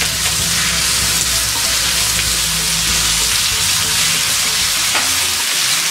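Ginger garlic paste fries in hot oil with a loud, unbroken hiss and crackle right up close, steady throughout with no voices.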